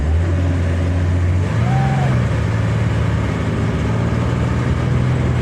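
A 1961 Chevrolet Corvair engine, warmed up and running rough, idles with an uneven, rumbling tone, its low hum wavering and shifting pitch slightly throughout.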